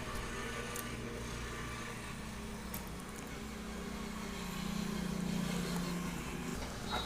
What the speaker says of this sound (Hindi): क्योंकि आपको गाड़ियों की आवाज़ आ रही होगी